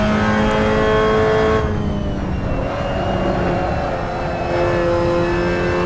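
A Clio Cup race car in a racing video game screams at high revs, flat shifting through the gears with brief dips in the engine note before it climbs again, loud and steady.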